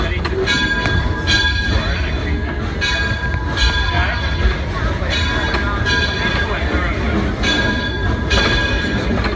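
An Edison steam locomotive train rumbles steadily at night with rhythmic metallic clatter and periodic squeals, a continuous rolling noise as it runs along the track, coming to a stop.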